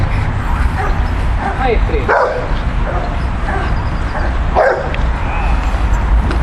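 A dog barks and yips in agitated bursts, several loud close barks mixed with whimpers, while someone speaks over the commotion.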